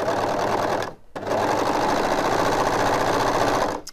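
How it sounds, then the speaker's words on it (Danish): An ordinary four-thread overlock sewing machine stitching light fabric with 80 needles: a steady, fast mechanical whir, close and loud, pausing briefly once before running again. "Her har jeg en almindelig firetrådet overlock"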